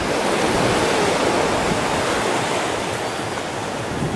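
Steady, loud rush of surf breaking on a windy beach, a broad continuous wash of water noise with wind buffeting throughout and no voices.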